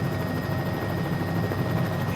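Simulated helicopter in Microsoft Flight Simulator in straight and level flight, a steady, loud rotor and engine drone with constant low thump and whine, continuous throughout with no voices.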